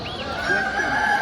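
Chickens cluck and a rooster crows nearby at a poultry market in Bursa, Turkey, a drawn-out crowing call over low murmur and background noise.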